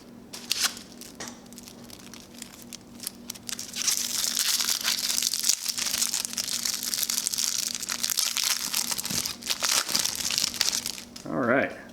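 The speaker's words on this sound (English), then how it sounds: "I'm starting to get kind of good at opening the inner plastic wrap" Crinkling and tearing of the inner plastic wrap on a 1994 Flair baseball card box, loud and close, crackling steadily for several seconds, with a voice speaking near the end.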